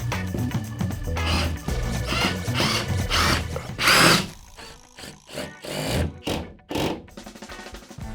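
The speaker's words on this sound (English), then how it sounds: "grab a hold of this real easy, slide it up, and put a couple screws in so we know it's fastened" A power drill drives screws through drywall into framing, with several loud bursts of whirring motor spaced by short pauses and handling noise, close by and without talk.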